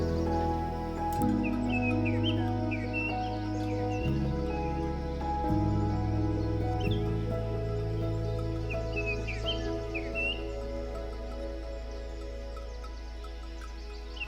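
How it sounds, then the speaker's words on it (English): A large flock of small birds chirps around a backyard feeder at an old farmhouse in winter, with scattered faint tweets over a steady low mechanical hum. "I think we are feeding a huge flock of birds right now"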